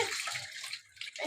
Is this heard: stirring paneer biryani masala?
no